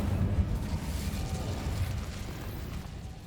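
Incendio fire spell cast in the Hogwarts Legacy video game, a continuous roaring, crackling burst of flame that stays loud and dense for several seconds with no voices.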